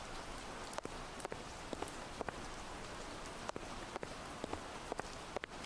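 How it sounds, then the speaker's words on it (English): Rain falls steadily in a horror video game, a soft even hiss with scattered sharper drops or steps ticking through it at a low level. "It's raining"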